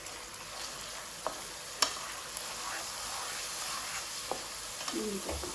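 Chicken seasoned with garam masala and turmeric frying in a pan: a faint, steady sizzle with a few soft clicks and taps throughout, no talking.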